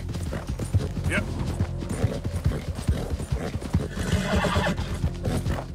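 Horse neighs and whinnies mixed with steady clip-clop hoofbeats in the video game Red Dead Redemption 2, busy and close, with a voice talking over parts of it.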